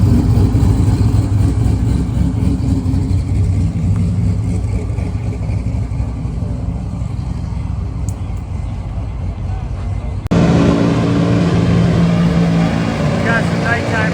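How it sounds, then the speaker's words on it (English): Cars doing burnouts at a racetrack at night, a continuous loud engine roar and revving that drops briefly then jumps up sharply near the end, heard close with no clear talking. "they finally got the party started with some burnouts"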